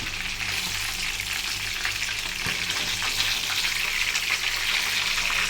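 Tilapia fries in hot oil, giving a steady, close, dense crackling sizzle that holds at an even loudness throughout, with no talk.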